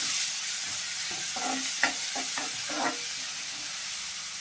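Finely chopped garlic and a large sliced onion sauté in hot oil with a constant sizzle and a run of soft scraping stirs in the middle, close and moderately quiet.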